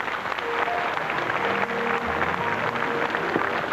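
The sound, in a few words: studio audience applause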